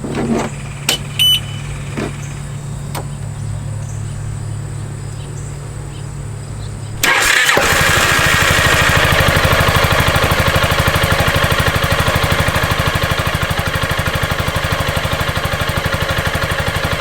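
A Piaggio MP3 scooter, left unused for a little over a year in a climate-controlled garage, clicks quietly, then its engine catches suddenly and settles into a steady, loud, even idle close by.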